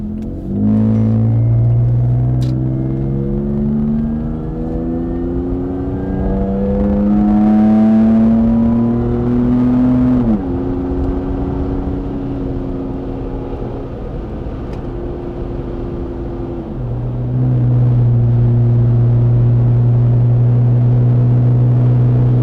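Toyota Tacoma pickup with an aftermarket exhaust accelerating onto a freeway, the loud, close engine drone climbing through several gear changes, each shift dropping the pitch before it rises again.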